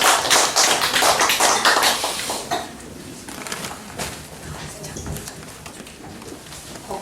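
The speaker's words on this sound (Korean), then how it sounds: "박수로 맞이해주시겠습니다." A church congregation applauds during a service, a dense burst of clapping that is loudest at the start and thins out over several seconds, with scattered claps and room noise as it fades.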